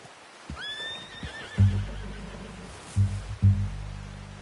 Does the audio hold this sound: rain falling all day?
no